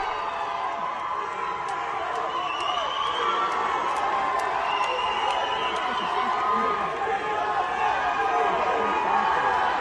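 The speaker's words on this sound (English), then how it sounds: "You hear all the little Nazis in the crowd chanting for the downfall of Israel and Jews?" A large protest crowd chants together in a steady, continuous roar, loud and dense throughout, with shouting voices blending over the group chant as an Israeli flag is taken down.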